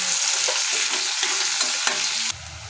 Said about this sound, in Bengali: তো হালকা মতো একটু লবণ দিয়ে দিই, যাতে পেঁয়াজটা তাড়াতাড়ি করে ভাজা ভাজা হয়ে যায়,